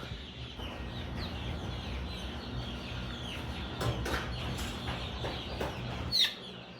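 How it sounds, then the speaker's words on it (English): A flock of over 200 young, fully feathered chickens clucks and chirps steadily on a farm while they are moved to a coop, a dense near chorus with brief louder calls near the end. "there's a little over 200 chickens here, and so we need to get them moved."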